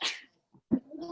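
A single short, sharp sneeze from a child bursts out at the start, followed by brief quiet and a few small vocal sounds, close and fairly soft.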